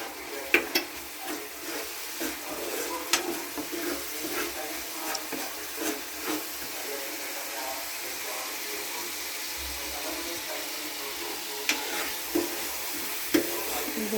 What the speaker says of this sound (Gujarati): આ બધી વસ્તુને એકદમ મિક્સ કરી દેવાની છે.